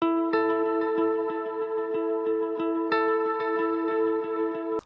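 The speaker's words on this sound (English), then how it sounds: "There's also this support layer for the guitar that sounds like this." Support-layer guitar for a dark ambient pop song with wet effects baked into the tone: a steady, sustained chordal drone with a soft rhythmic pulse of repeated picked notes, alone and fairly loud.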